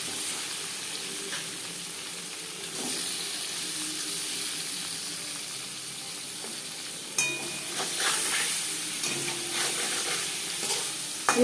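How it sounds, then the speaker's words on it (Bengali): Paneer cubes sprinkled with salt sizzle steadily in an oiled kadai, a continuous loud frying hiss with occasional stirring scrapes, close up and without talk. "লবণ দিয়ে পনির ভাজলে কড়াইতে লেগে যাওয়ার সম্ভাবনা কম থাকবে।"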